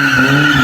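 A BMW E36 drifting, its tires squealing in a loud, steady, sustained screech with engine tone underneath, close and with no talk.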